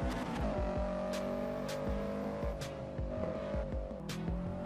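Engine of a tuned Subaru Impreza GD driven on a track in Assetto Corsa, a continuous droning note with gear-change steps and brief tyre noise, heard alone without talk.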